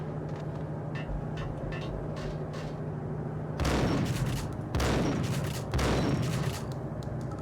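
Gunfire in the Max Payne video game: three loud, broadband shot bursts in quick succession near the end, over a steady low in-game hum and scattered faint clicks.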